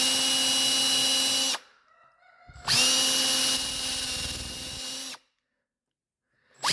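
A power drill drives screws into a wooden reloading bench in two loud, close bursts, the second longer and straining, separated by a brief quiet gap.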